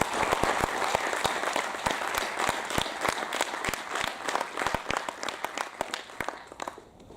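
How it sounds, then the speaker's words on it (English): An audience at an institute convocation ceremony claps steadily and fairly densely, sustained applause from a hall crowd that thins toward the close. "I would urge all of you to please give a thumping lot of applause for all of them"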